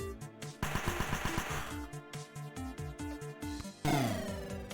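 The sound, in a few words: gunfire in a video game battle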